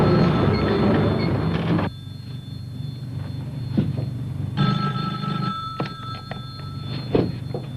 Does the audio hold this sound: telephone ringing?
yes